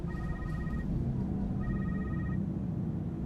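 A phone rings for a voicemail in the Secret World Legends video game, two bursts of a steady electronic double-tone ring separated by a pause, over a low ambient drone with no talking.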